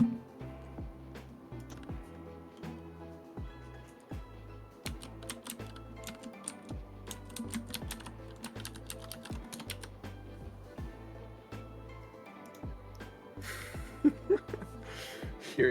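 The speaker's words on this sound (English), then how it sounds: "Hearing my keys clack on your stream is hilarious." Computer keyboard keys clacking in rapid, irregular bursts of sharp taps, close and fairly quiet, with brief pauses between runs of typing and a faint chuckle near the end.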